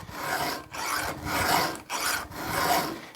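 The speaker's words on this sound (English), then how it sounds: "I try and clean the grit out of the rails too." Rasping strokes of a tool scraping grit out of the rails of a chainsaw bar, four long back-and-forth passes with brief pauses between them, close and steady.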